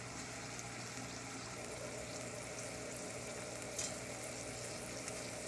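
Stew beef and onions brown in a pan with a quiet, even frying sizzle, a faint steady hiss with a soft stir or clink near the middle, no voice.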